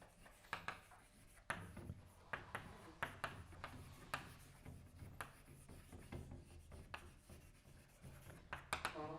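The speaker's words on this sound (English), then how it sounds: "I'm going to write out the answer" Chalk or a pen writing out an answer by hand during a physics lecture, faint and steady, with repeated sharp taps and scratchy strokes in an uneven rhythm that carries on throughout.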